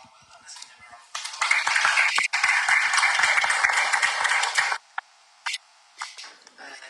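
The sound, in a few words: audience applause for debating teams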